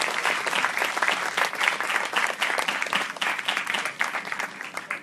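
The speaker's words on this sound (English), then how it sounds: "let's give them a big round of applause." A conference audience applauds panelists at a women's leadership event, a dense, steady round of clapping from a sizable crowd that holds strong for several seconds before easing slightly.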